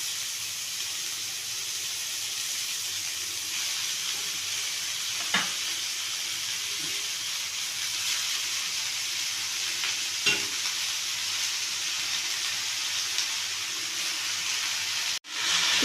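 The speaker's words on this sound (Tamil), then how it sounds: "கீரையை போட்டாச்சு. நல்லா கிண்டிக்கும்." Amaranth greens sizzle with sautéed onions in a pan, giving a steady frying hiss that fills the background, broken by a few soft stirring knocks and one sharp clack near the end.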